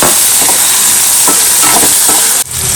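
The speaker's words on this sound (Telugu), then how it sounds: "మిర్చి ఇంకా అలానే ఆనియన్స్ కొంచెం త్వరగా అలా వేగించుకుంటూ ఉండాలి" Chillies and onions fry in a pan with a loud, continuous sizzle and crackle, and occasional scraping as they are stirred, close up.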